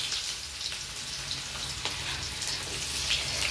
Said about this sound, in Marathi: बघू शकता तुम्ही आपले जिरे मोहरा चांगलं तेल तापू द्यायचं